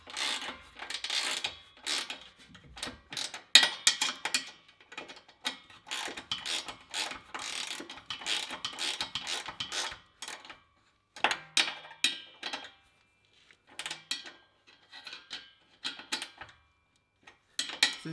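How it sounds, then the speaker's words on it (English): A hand ratchet tightens the bolts on an air suspension reservoir tank mount under a Land Rover Discovery, giving rapid bursts of close, crisp clicking separated by short pauses. "Now back at the rear again, we can tighten up after tightening up the bolts in the front."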